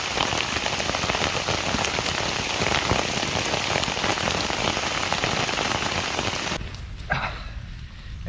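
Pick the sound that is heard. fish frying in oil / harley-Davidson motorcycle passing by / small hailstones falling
small hailstones falling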